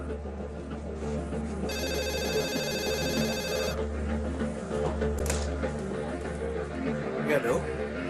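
A telephone bell rings in one sustained electronic burst of about two seconds, heard under a man's ongoing French-speaking voice and room background.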